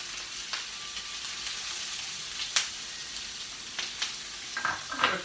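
Diced Granny Smith apple, onions, fresh rosemary and thyme fry in a pan, a soft continuous sizzle with occasional sharper crackles and pops, no voices.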